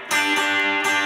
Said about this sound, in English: A sort of old school rock and roll riff